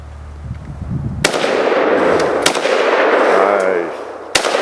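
Rifle shots fired at a 2 liter bottle outdoors, several loud sharp cracks with a sustained rumbling wash between them and one final crack near the end.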